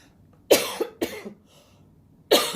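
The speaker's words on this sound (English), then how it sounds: "All of a sudden, this tickle in my throat came up and I needed to cough." Three harsh coughs sound close up, two quick ones in succession, then a pause before a final loud one.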